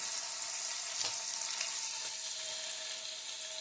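Steak slices laid face down a couple at a time in a hot pan, a steady moderate sizzle with a faint hiss throughout and a brief soft clatter near the start, no talking.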